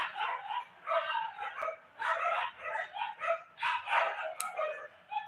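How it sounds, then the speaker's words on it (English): Several dogs bark repeatedly in overlapping bursts, moderately distant, forming a steady rhythm of yaps and barks across the whole stretch. "please excuse the dogs."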